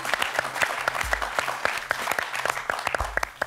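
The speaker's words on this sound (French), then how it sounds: "Là, il faut l'applaudir." A TV quiz show audience applauds steadily throughout, with dense, even clapping at moderate volume and no voices on top.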